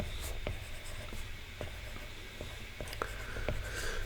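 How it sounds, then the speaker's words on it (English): Pen or marker writing notes during a university programming lecture on operator precedence, heard as faint scratchy strokes and taps across a few seconds with no talk. "okay, let me just write it down for you."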